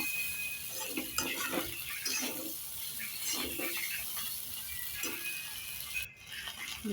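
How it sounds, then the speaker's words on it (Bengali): Egg pasta with salt, turmeric and spices is stirred in a pan, giving soft, repeated scraping and clinking strokes with a faint cooking hiss, fairly quiet and close. "ভালোভাবে নাড়াচাড়া করব"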